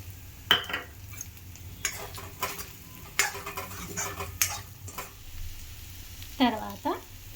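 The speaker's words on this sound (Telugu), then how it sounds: "ఒక 5 minutes ఆయిల్లో వేగాక కారపొడి వేసుకోవాలి" Chili powder sizzling in hot oil with colocasia for a curry, a soft frying hiss broken by stirring scrapes and clinks of a spoon against the pan, close and fairly quiet.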